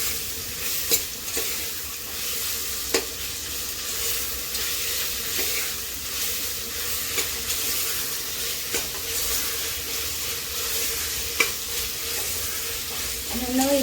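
Ginger garlic paste sizzles steadily in hot tempering oil for a goat head curry, a loud continuous frying hiss with occasional sharp ticks and stirring scrapes, and no voices.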